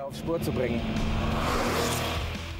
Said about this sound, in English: the inimitable throaty sound of the air-cooled boxer engine